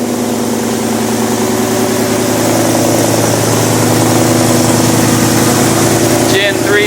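A Ford Foxbody Mustang with a Gen3 engine swap and Magnaflow exhaust idles steadily with a deep, even rumble close by, and people speak over it near the end.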